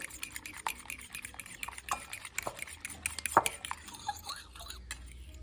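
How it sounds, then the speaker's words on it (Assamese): A bowl of eggs with salt and turmeric is whisked briskly, giving quick irregular clinks and scrapes of a utensil against the bowl, close and fairly quiet, with no talking. "এইটো মই ভালদৰে ফেটি ল'ম।"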